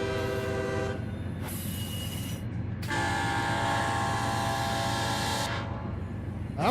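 SD40 and GP40 diesel locomotives roll past in the Run 8 train simulator game, a steady loud rumble of engines and rail noise with sustained horn-like tones sounding over it.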